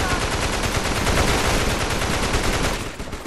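Dense, continuous automatic gunfire from a zombie shooter on PS5, loud and close, with rapid overlapping shots filling the whole stretch and no talk over it.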